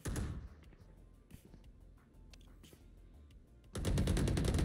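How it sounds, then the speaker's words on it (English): Video game gunfire in a tactical shooter match: a rapid automatic burst at the start, scattered distant shots and clicks through a quieter middle, then a loud sustained burst at the end, with no speech. "I'm getting shot from both angles, bro."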